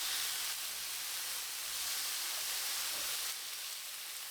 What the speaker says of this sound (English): In the same pan, grill the pieces of chicken